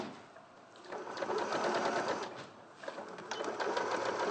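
A sewing machine stitches a 5/8 seam during a dressmaking session, a short, close burst of motor whir that rises and dips, with faint voices in the room.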